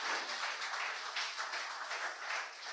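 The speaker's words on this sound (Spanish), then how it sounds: "Den un aplauso al Señor, hermanos." Church congregation applauding together, a steady wash of many hands clapping at moderate distance with no voices on top.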